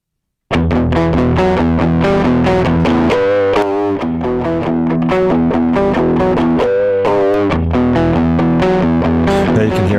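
Guitar played through The Scream distortion effect with its drive high pass set lower, giving a full, thick overdriven tone; sustained distorted chords and riffs ring out loud and continuously, alone with no voices.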